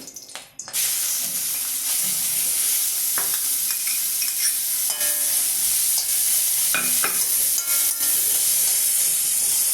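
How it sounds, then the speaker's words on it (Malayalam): Carrots frying in ghee in a pan with steady, close sizzling and hiss, broken by a few scraping stirs, after a brief quiet start; no talking. "ഇനി നമുക്ക് ഈ നെയ്യിലേക്ക് നമ്മളെടുത്ത് വെച്ചിരുന്ന ക്യാരറ്റ് ഇടാൻ പോവാണ്."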